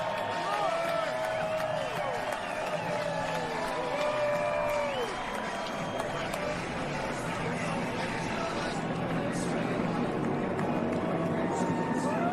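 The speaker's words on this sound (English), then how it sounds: "a big roar from the crowd as they come past" A big crowd roars at Daytona International Speedway as cars come past, a continuous wash of cheering and clapping under a commentator's voice, with occasional whistles cutting through.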